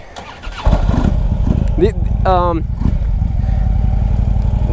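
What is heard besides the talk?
2010 Harley-Davidson Ultra Limited motorcycle starting and running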